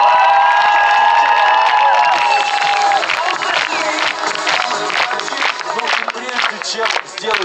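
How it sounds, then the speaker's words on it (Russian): An indoor concert audience breaks into applause and cheering, with dense clapping and a few shouts and whoops, while a high vocal or instrumental tone fades out at the start. "ну прям совсем жидкий аплодисмент"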